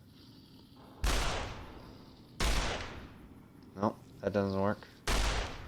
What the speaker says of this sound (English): just let's use the hunting rifle